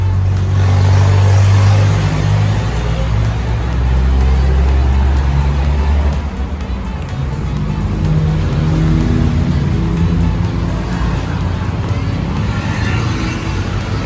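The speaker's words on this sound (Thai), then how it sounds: "เครื่องยนต์ก็จะสตาร์ทติดนะครับ" A Honda Civic FD sedan engine started by push button, settling into a loud, close idle with a deep steady rumble that holds throughout with small fluctuations.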